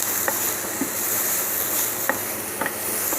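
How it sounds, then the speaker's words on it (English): Avocado searing in a hot pan, a steady close sizzle with a few faint clicks and stirring touches, no talking. "You can see it's looking lovely, it's searing off nicely"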